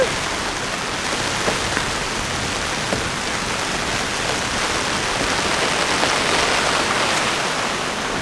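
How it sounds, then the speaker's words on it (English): Heavy, dense rain pouring down in a loud continuous wash, a rain squall over an anchorage bay, with no voices over it. "little squall coming through our little Turtle Bay"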